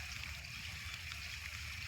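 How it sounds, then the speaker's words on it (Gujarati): Rain-pipe sprinklers spray water over a garlic field in a steady, even hiss of falling droplets, continuous and fairly close, with no talk. "આવી રીતના ફુવારા એકદમ જોરદાર થઈ રહ્યા છે"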